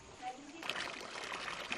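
Children splash and slosh river water while washing their feet and bodies, a steady close watery wash with trickles and splatters, with voices talking over it.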